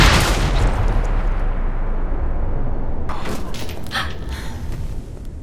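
Gunfire in the Alpha Protocol video game crackles in a dense, sustained volley over a loud roar of action, with sharper bursts toward the end.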